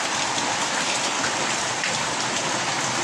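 Heavy typhoon rain pouring down steadily, a dense, continuous hiss of drops hammering a surface close by, with no break.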